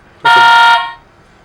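A single short electronic horn beep from a battery-powered Ultimetal Optimus Prime toy robot car sounds, a bright buzzy toot lasting about half a second, close and loud against silence.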